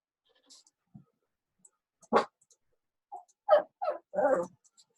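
A pet dog makes a few short, scattered whimpers and yelps, fairly faint and close, with silence between them and no talking.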